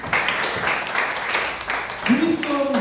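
Children and adults clap together for a child's correct answer at a Sunday children's church service, a dense, steady patter of applause mixed with chatter and voices.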